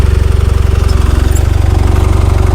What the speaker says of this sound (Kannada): 2 ಸಿಲಿಂಡರು ಸಿಮ್ಸಾನ್ ಇಂಜಿನ್ ಇರೋದು ಪರವಾಗಿಲ್ಲ, ದಮ್ ಕೊಡ್ತಿದೆ.